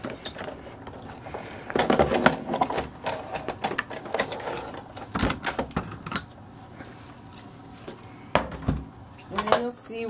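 Embossing folder cranked through a manual die-cutting machine while making a Stampin' Up! lattice greeting card, giving a series of mechanical clicks, ratcheting and grinding rumbles of moderate loudness, with brief clacks of handling near the end.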